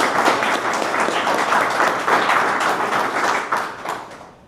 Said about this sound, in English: I'd like to thank him with a little round of applause